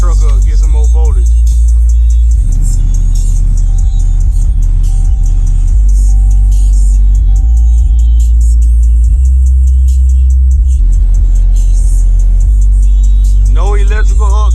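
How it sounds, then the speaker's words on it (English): A truck fitted with a car audio amplifier and subwoofers cranks and starts up, and a deep engine rumble settles into an idle while someone talks over it. "Let me start the truck up, get some more voltage."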